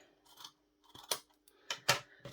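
Scissors cut through a length of waistband elastic for jogging bottoms, giving several crisp close snips in quick succession with short pauses between them and no talking.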